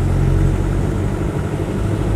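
Land Rover 90 hardtop with a 2.5 diesel engine pulls from low revs in third gear on fairly big tyres, a steady, loud, close engine drone that holds constant without a break.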